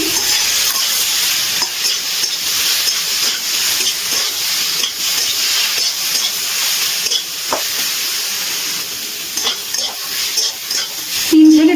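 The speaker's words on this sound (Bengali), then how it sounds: "এবার দিয়ে দিচ্ছি থেতো করা চালটা এবার ভালো করে একটু নাড়াচাড়া করে নিচ্ছি" Crushed chalta fruit sizzles in hot oil with spices while being stirred in a pan, a constant close frying hiss with occasional scraping of the spoon.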